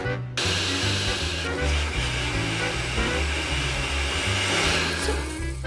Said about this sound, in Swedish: Och så bara mixar vi det.